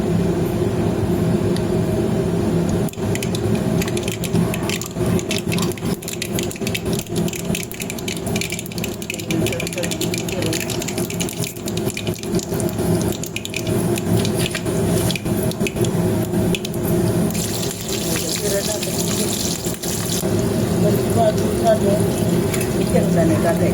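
Hot oil sizzling in a pan while poha is cooked, a steady dense crackle and hiss running throughout at close range, with someone speaking over it.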